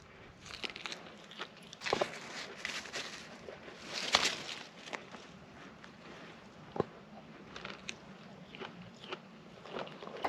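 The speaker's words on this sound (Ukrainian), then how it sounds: "Зразу зриваю інжир і зразу його їм." Chewing a freshly picked fig outdoors in the mountains during a solo bike tour, with close, wet, irregular bites and mouth sounds plus occasional crunchy clicks, heard alone at a quiet level.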